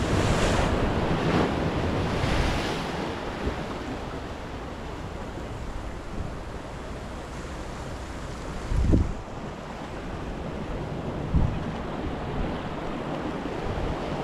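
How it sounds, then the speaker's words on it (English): Big ocean waves roll in on a beach during a fishing outing, a constant loud surf wash mixed with heavy wind buffeting the microphone, with a couple of sharper crashes standing out. "A couple of big waves coming in now."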